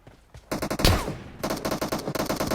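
Rapid automatic gunfire from the video game PUBG Mobile: a brief single shot, then dense, fast bursts of close, loud shots, with a short pause between volleys.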